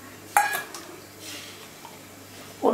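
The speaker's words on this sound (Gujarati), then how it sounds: "અને હવે આપણે ઓટ્સ ઉમેરી દઈએ." Oats tipped into a pan of khichdi with yogurt, opening with a clear metallic clink of a spoon on the pan, then soft rustling and stirring, and another utensil knock at the end; no voices.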